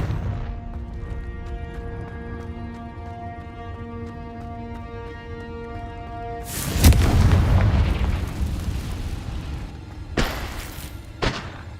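Confringo spell blasts go off in Hogwarts Legacy after a calm, humming musical stretch: one loud, rumbling explosion bursts out, followed by two shorter, sharper blasts near the end.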